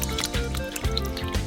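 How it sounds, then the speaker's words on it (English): Dirty potatoes are scrubbed by hand in a sink full of water, giving soft splashes and drips over a steady tonal background hum. "We wash the dirt off of each potato"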